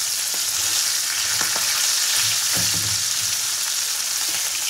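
Hilsa fish tails fry in hot oil with a loud, continuous hiss and crackle. Occasional soft knocks come as the pieces are turned, and no one speaks.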